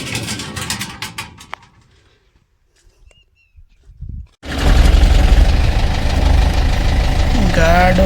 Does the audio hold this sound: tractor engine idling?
yes